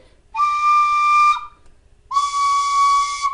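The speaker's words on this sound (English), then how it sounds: "just blow nice and firm in the whistle, and the high D as well, or middle D" Clarke tin whistle sounding two separate sustained notes, each a clear, bright tone held about a second, close and alone with a pause between them.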